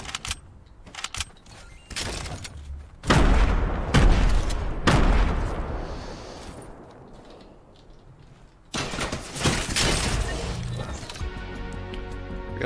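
Hunting rifle gunfire in a video game: several loud, sharp booming shots in bursts, spaced apart, with some rumbling and clattering between them.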